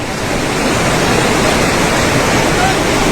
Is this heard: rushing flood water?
yes